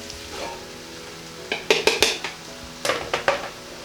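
Drained beans are tipped into a pot of sautéed vegetables, making two short clusters of clattering, wet clunks against the pot over a faint background sizzle.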